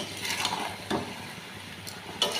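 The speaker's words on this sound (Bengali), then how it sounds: "দিয়ে ভালো করে একটু নেড়ে নেব।" A spatula scrapes through a hilsa fish head and mixed vegetable chorchori curry in a pan, with a few sharp clinks over a low, steady sizzle, close by and fairly quiet.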